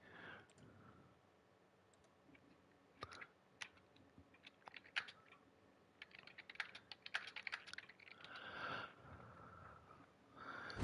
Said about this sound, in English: So I don't have to keep typing. I don't like typing.